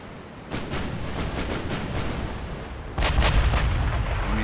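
Naval guns, including 16-inch main batteries, fire in a dreadnought-era warship game as a rapid series of booming reports, steady at first and then heavier and louder, with no talk.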